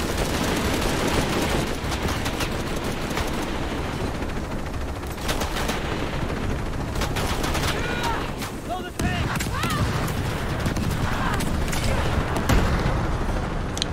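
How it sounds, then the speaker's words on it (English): Rapid gunfire and explosive bursts in the video game Shadow of the Tomb Raider, dense and loud throughout with voices talking over the combat. "Pilot in forward position, opening fire."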